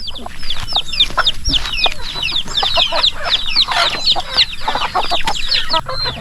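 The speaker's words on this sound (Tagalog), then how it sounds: "may mga nag-away ditong manok" Several farmyard chickens fighting cluck and squawk loudly and close by in an agitated, overlapping flurry, with sharp cries suggesting a scuffle.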